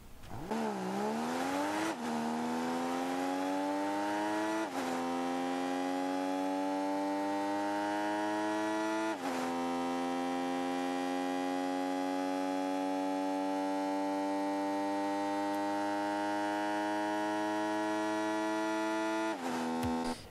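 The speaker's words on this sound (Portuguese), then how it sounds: "E agora o som de motor aí para vocês escutarem dele." Mudcat car engine in Rocket League, a steady synthetic tonal hum that rises sharply then holds, stepping up in pitch at regular intervals like gear changes, alone and even in level.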